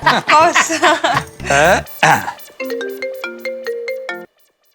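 Voices speak briefly, then a phone ringtone plays a bright, beeping melody of stepped tones close by before cutting off abruptly.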